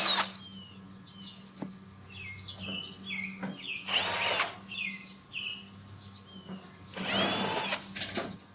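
A power drill backs out 5/16 screws from an air conditioner's access panel, with short whirring bursts at moderate distance separated by pauses and faint bird chirps in the background.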